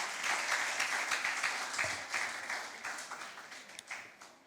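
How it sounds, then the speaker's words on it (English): Steady applause from the audience at an impromptu speaking competition, many hands clapping densely and evenly for about four seconds in a hall, moderately loud and without talk. "Please give him a round of applause."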